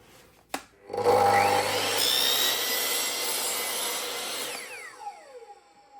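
A power saw cuts across the bottom of a wooden interior door, starting after a sharp knock and whirring up into a loud, steady whine that runs for several seconds before spinning down.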